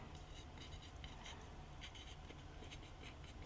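Pen scratching across the label of a food package for dehydrated celery, a steady dry scritching run of short strokes, close and fairly quiet, with no talk.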